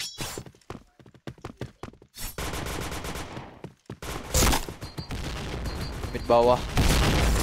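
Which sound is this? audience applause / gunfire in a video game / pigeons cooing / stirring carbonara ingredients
gunfire in a video game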